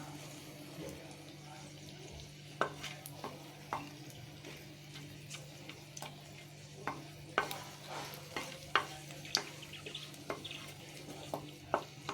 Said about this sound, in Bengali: শুকনো লঙ্কাটা ভালো করে ভাজা হোক